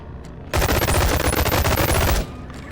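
A two-handed yellow burst-fire ranged weapon fires one rapid, loud, close stuttering volley lasting under two seconds, with near-silence before and after.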